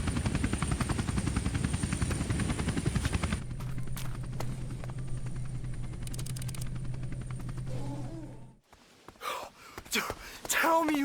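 A police helicopter in the skateboarding video game Tony Hawk's Underground, a loud chopping rotor drone that drops to a lower steady hum, then cuts off before brief sharp gasps and voices.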